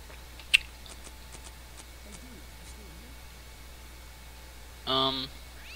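A cat yowls once, short and fairly loud, when used as a gun silencer in the video game Postal 2, following several faint clicks over a quiet hum.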